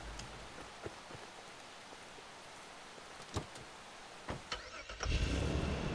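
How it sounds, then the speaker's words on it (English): In the video game Far Cry 2, rain patters steadily with scattered drop ticks and clicks before a car engine cranks and catches near the end, a sudden louder rumble over the rain. "Actually, give me this car."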